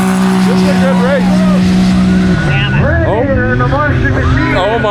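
A Maverick R UTV engine drones steadily at a drag-racing event, then shifts and surges, heard under loud, excited crowd chatter and shouting throughout.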